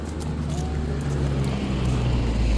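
Street traffic on a residential road in Australia rolls by as a low, steady rumble with a faint rising whoosh of passing cars, moderately distant and without speech.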